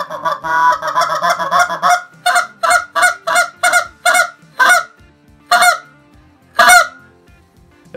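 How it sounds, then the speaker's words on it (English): A goose call tuned for a raspy, deep tone is blown in a fast run of honks and then spaced single honks, loud and close with no talk over it. "This call is tuned to be a very raspy goose, but it still has a little speed to it if you can operate it."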